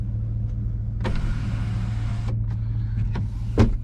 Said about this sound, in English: you can tilt the sunroof from back here